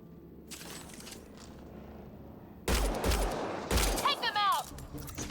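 Gunfire in Mass Effect: Andromeda: sudden loud bursts of shots erupt after a quieter stretch, with sharp cracks and a brief whining ricochet-like sweep, over game ambience.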